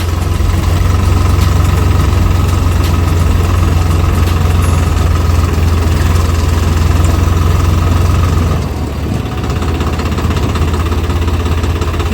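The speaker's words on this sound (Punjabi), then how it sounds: "ਸਾਹਮਣੇ ਆਉਂਦਿਆ ਵੀਰ ਦਾ ਟਰੈਕਟਰ" A tractor engine runs near fields on a foggy day, a loud, steady low rumble and hum that holds constant, dipping briefly near the end before resuming.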